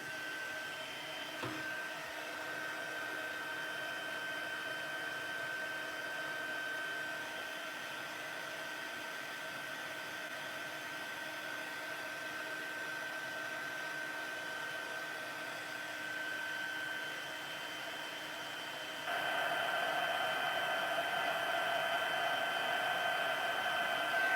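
A heat tool blows hot air over embossing powder on a card, a continuous even whirring hiss that holds steady for a long stretch and then grows slightly louder and brighter toward the end.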